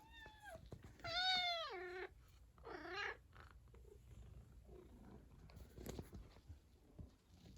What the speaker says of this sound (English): And the cat says hello.